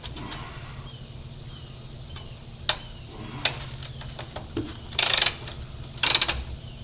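A ratchet wrench removes the brake hose bracket bolts on a 1980 Chevy C30 dually truck: a few sharp isolated clicks, then two short, dense bursts of ratcheting close by, with no talk.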